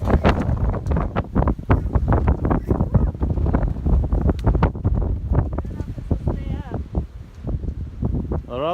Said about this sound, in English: That wind in your ears is cold.